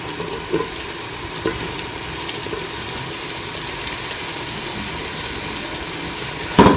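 Peas and potatoes fry in oil in a pan while a vegetable biryani is being cooked, giving a steady, close sizzle with a few soft knocks of stirring and no voices.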